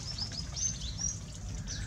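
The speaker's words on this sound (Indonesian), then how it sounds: "Burung ini memiliki nama ilmiah Stachyrhis polycephala, dan dalam bahasa Inggris dinamakan grey-headed babbler" Grey-headed babbler (Stachyris poliocephala) calling in an aviary, several faint thin high chirps scattered over a low background hum.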